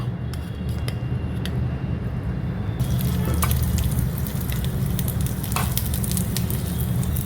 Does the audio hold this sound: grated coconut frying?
yes